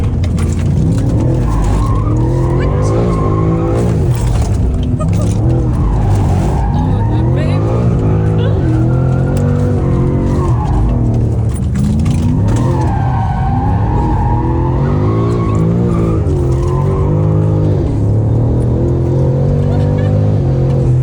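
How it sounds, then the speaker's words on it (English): A BMW M5 engine roars loudly and continuously, revving up with rising pitch as it accelerates hard near St. Tropez, with people talking inside over the noise. "Okay, so let's see what this M5 can do."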